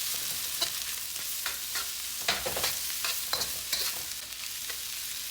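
Kimchi, onion and peas stir-fried in a crowded wok, with a steady bright sizzle broken by repeated scraping stirs and clatters close by, and no talking.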